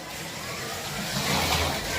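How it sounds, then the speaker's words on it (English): A Scalextric-style slot car with a saloon body whirs continuously around its track, a close steady electric motor drone that swells slightly as it passes. "Hope you guys can hear me over the noise of the car running around."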